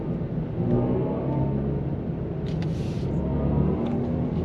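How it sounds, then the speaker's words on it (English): A BMW electric car accelerating, giving a steady low droning hum with rising tonal layers that swell continuously and close, with no talking over it. "I don't know if this noise is being fed in, but it's a very interesting acceleration noise"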